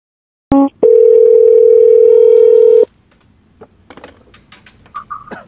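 Telephone tone when calling Gojek customer service: a short beep, then one long steady ringing tone lasting about two seconds, followed by quiet line noise and faint clicks.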